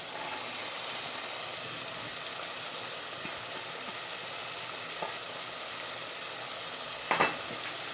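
Coriander and tomato fry in a spice masala, giving a steady, faint sizzle with soft stirring scrapes throughout and a couple of brief clinks near the end, with no talking.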